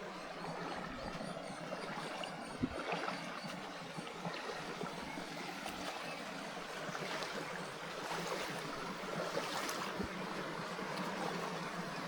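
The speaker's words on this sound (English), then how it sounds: "I'm just walking in a river." Someone wades through a river, with a steady wash of flowing water and soft splashing, faint and continuous, with a few small knocks and no talk.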